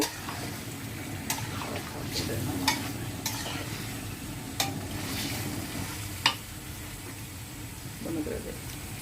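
Chicken curry being stir-fried in a pan, a continuous low sizzle under scraping stirring strokes with several sharp clicks of a utensil on the metal pan, and a voice speaking over it at moments.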